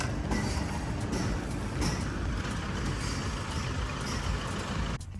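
A vehicle pulling a trailer outside a workshop, with an Amarok nearby, rumbles as a steady loud engine drone with broadband road and rattle noise throughout, cutting off abruptly near the end.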